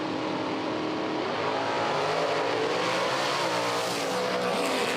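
A drag racing car roars down the strip at an IHRA drag race, a loud, sustained engine blare holding steady and close for the whole stretch with a slight rise midway.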